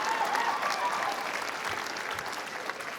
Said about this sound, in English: all the Native people clapping